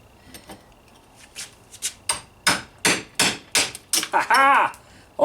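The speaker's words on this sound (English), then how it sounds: "So I'm gonna get me a drift and a hammer." A hammer strikes a metal drift on a VW door hinge, with a series of sharp, loud ringing blows coming faster toward the end, close by and with no talking.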